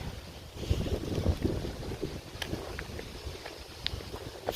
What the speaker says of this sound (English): I know it's a little windy.